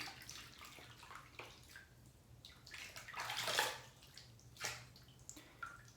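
Running water rinses soap out of a bowl, a soft splashing stream that swells and ebbs over a few seconds, close and fairly faint, with no talk.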